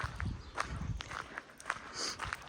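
Shoes scuffing and kicking small stones along a village footpath, a series of irregular crunchy steps close by with no talking.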